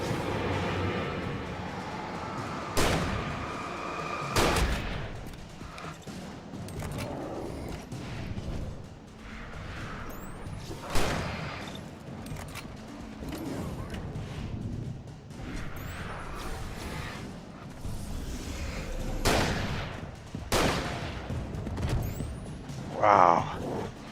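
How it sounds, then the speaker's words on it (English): Shotgun blasts in Alan Wake, booming irregular shots spaced every few seconds over dark ambient game sound, with a player talking intermittently between them. "we said we're gonna use a shotgun"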